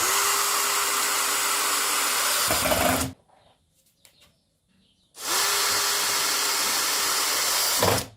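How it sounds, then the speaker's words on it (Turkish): A power screwdriver drives large screws into an 8-compartment multipurpose cabinet during assembly, heard as two loud, steady whirring bursts of about three seconds each, separated by a short quiet pause. "Şimdi en büyük vidalar ile güzelce vidalama işlemine başlıyoruz"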